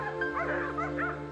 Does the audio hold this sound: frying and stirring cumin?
no